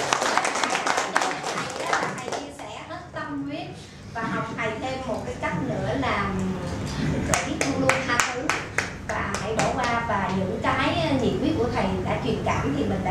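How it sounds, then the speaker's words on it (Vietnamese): A group at an investor training course claps in scattered, sharp bursts while several people talk and call out over it, voices and hand claps mixing closely throughout. "Cho chị một tràng pháo tay đi"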